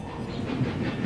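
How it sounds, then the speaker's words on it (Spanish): A departing train rolls continuously nearby with a steady rumble, faint hiss and rail noise, though no distinct whistle blast stands out. "El tren arrancó y la locomotora silbó"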